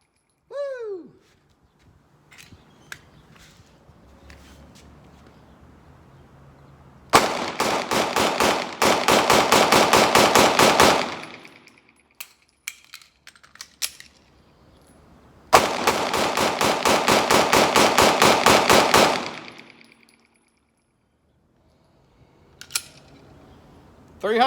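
Rapid gunfire from a Glock pistol fed by Shield Arms magazines, two long loud strings of closely spaced shots separated by quiet pauses, with a few isolated shots and clicks between.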